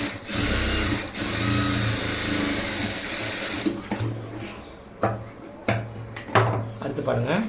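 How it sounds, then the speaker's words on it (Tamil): A sewing machine top-stitches the lining of a beaded-lace blouse, running in a steady close whir for several seconds before stopping, followed by a few sharp handling clicks and taps. "லைனிங் லத்து மேலே மேல் தையல் வச்சுருங்க."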